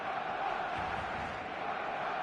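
A large stadium crowd in the eFootball video game roars in a steady, dense wash of voices, holding an even level throughout without distinct cheers or breaks.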